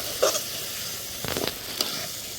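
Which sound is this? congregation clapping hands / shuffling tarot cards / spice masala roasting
spice masala roasting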